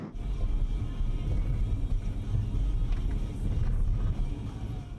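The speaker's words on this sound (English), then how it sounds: "That's the sound of driving Ontario's worst road 1 year later." A car driving on a rough, potholed road in Ontario, with a steady low rumble and thumping bumps from the wheels, moderately loud throughout with no talk.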